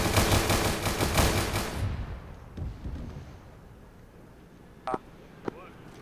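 Gunfire in a military video game operation: a dense, loud burst of rapid shots in the first two seconds, then a couple of sharp isolated cracks later, with a voice talking over the shooting.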